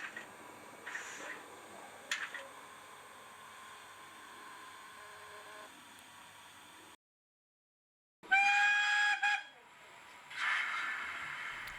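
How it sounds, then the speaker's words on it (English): After a brief silence, a model 57xx steam locomotive gives a short tonal whistle toot, followed by hissing steam, with faint mechanical noise earlier. "Off she goes, toot on the whistle and all that."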